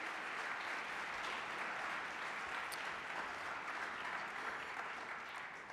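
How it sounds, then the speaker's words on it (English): Audience applause for panelists at an engineering event, a dense, even wash of clapping sustained for several seconds, somewhat distant and quiet. "Let's give our panelists a round of applause and thank them for their time."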